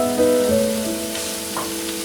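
Bean paste stir-fries in a hot wok just after cooking wine is added, for tiger-skin fried green chillies. A steady, close, crackling sizzle is heard on its own.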